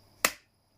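A single sharp hand clap sounds once, crisp and close, with a quick decay into near silence.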